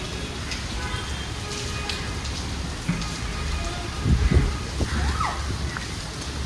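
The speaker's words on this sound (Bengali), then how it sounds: "তো হঠাৎ একটু আওয়াজ পাওয়াতে বাইরে এসে দেখি বৃষ্টি পড়ছে" Sudden rain falls outside in wind, a steady hiss of drops with a few louder splashes and thuds midway, close and continuous, and a faint voice or two underneath.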